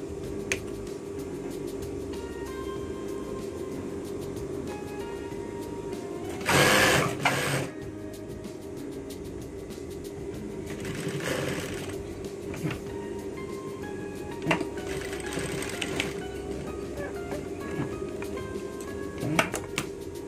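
Sewing machine stitching a pocket on training pants, a steady rapid mechanical whirr running throughout with brief louder bursts and small clicks and clinks of handling.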